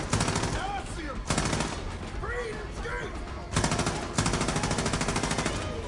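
Rapid automatic gunfire in Far Cry 5 rattles in several long, dense bursts separated by short pauses, loud and close, with someone talking over the shooting.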